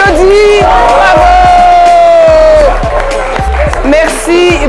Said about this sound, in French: Merci à vous, on applaudit, bravo!